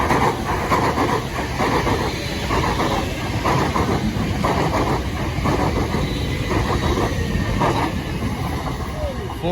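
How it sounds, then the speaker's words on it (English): A pair of South Western Railway class 455 electric trains rolls past at Battersea Park, a loud continuous rumble with a rhythmic clickety-clack of wheels over rail joints, staying close throughout. "The next train to pass by will be a pair of SWR class 450s"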